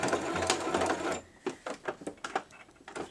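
Sewing machine running a short back stitch while sewing a beginner's fabric scrunchie: a steady loud motor whir for about a second, then a series of quieter, separate stitching bursts with a rhythmic start-stop pattern, with no talking.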